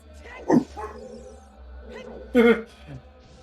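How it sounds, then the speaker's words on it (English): Dog in an apartment woofing repeatedly at another dog barking at the far end of a different apartment, two short bursts close by over a quiet room with faint background voices. "There's a dog barking at the other end of a different apartment, which is making my dog sitting here woofing over and over."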